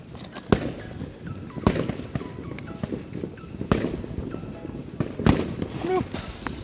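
A Valhalla fireworks battery rated at 110 shots goes off on New Year's, heard as a handful of sharp cracking bangs spaced a second or two apart over a busy background, with voices faintly present.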